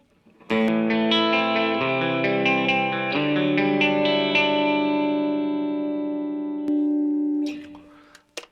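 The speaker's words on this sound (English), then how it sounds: "And then we add some" Sustained electric guitar chords through an amp with almost no gain, ringing out with a wash of reverb and repeating delay echoes, clean tone, steady and prominent, tails fading at the end.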